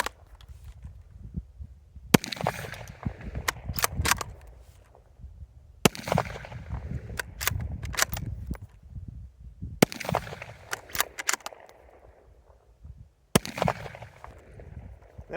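Five sharp rifle shots ring out from a Ruger American Ranch chambered in 7.62x39, each a loud close crack spaced a few seconds apart, with handling clatter and small noises between them.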